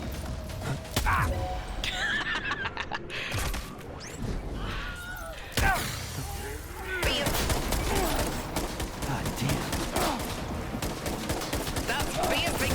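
Gunfire bursts through a Death Stranding 2 firefight, with rapid shots, mechanical clanks and impacts packed densely over a continuous bed of game noise and effects.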